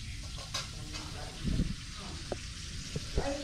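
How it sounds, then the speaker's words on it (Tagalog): Duck innards fry in a pan with a steady close crackling sizzle, interrupted by a few scraping stirs and clatters, while a voice talks briefly beneath. "Prito ng laman loob ng bibi"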